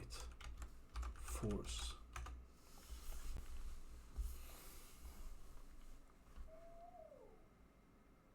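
Keys clatter on a PC keyboard as a gpupdate command is typed into the command prompt, a burst of quick clicks near the start, with someone talking over the keystrokes.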